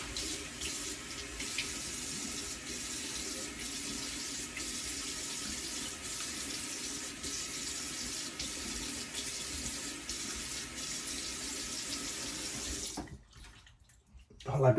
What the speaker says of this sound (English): let me rinse my razor and rinse my